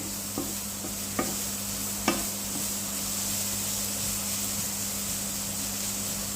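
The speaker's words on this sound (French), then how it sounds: "Je vais mélanger tous mes petits légumes." Small vegetables being stirred in a hot pan beside cooking rice, a steady sizzle throughout with a few sharp utensil scrapes and taps early on, close and fairly loud, no voices.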